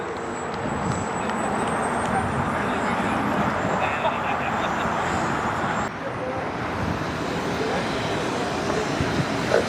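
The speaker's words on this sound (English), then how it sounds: "Taking off right now is another T1. This is called the T1 Rockstar, flown by Tom Basilio." A T1 Rockstar RC model jet taking off at a jet rally gives a loud continuous turbine roar with a rising whine that keeps building. A commentator talks over it the whole time.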